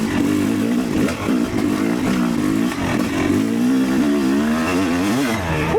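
Yamaha YZ300 E-Start two-stroke dirt bike revs hard in third gear, a loud, close, raspy engine note rising and falling in pitch through the whole stretch, ending on a sharp upward rev.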